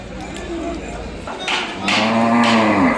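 A young Ongole calf moos loudly and close at a Sunday cattle market, a drawn-out bellow rising and falling after some shuffling.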